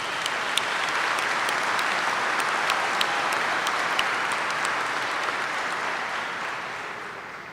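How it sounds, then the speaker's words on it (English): Sustained applause from a commencement audience honoring graduates' family members and crew, a dense steady wash of clapping that holds level and fades slightly at the end. "So I'd like to thank the family members and your crew at this time with a round of applause."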